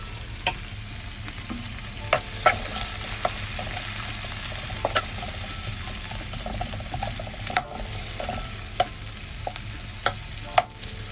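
Sliced red onion and garlic frying in a pan for a dry shrimp fry, a steady close sizzle with occasional stirring clicks and pops throughout, no voices.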